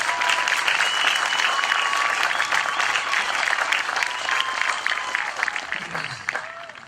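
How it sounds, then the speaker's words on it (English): A crowd at a graduation ceremony claps steadily and loudly for several seconds, then the applause fades out, with a faint voice underneath. "let's give them a round of applause as well."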